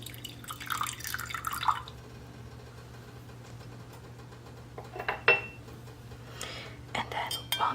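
Juice and water are poured into a cooking pot for homemade gummy bears in a quiet kitchen, with soft dripping and splashing followed by faint clinks of utensils against the pot.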